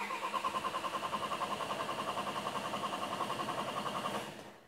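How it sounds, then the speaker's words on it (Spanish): A car engine cranks on the starter with a rapid, even rhythmic whirr for about four seconds without catching, loud and close, then stops; the engine is under a crankshaft and camshaft sensor check. "Vamos a darle arranque."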